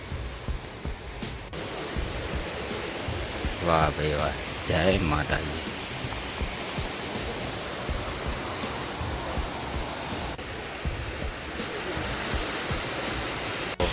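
The Shetrunji river flows near the Khodiyar Mataji shrine at Gadhdhara with a broad, steady rushing roar, while a man's exclamations briefly rise over the water.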